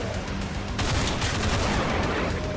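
Relentless rapid gunfire in a retro 16-bit style action video game, a dense, loud, continuous barrage of shots with no pauses and no voices.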